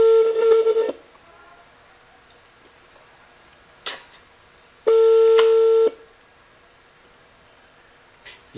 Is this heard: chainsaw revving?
no